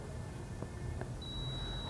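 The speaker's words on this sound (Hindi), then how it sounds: "तो यह जो है बीप साउंड आ रहा है" Continuity beep from a multimeter testing a deep freezer thermostat: a steady, thin high tone begins partway through and holds to the end, faint over a low room hum.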